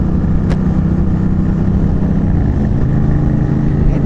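Loud, constant motorcycle engine drone from a group including a BMW GS 800 riding, a steady low rumble with wind noise and no talking.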